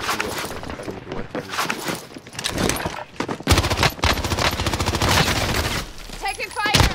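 Submachine gun fire in a first-person shooter game, rapid loud bursts of automatic shots stacking up almost continuously, with a player talking over the racket.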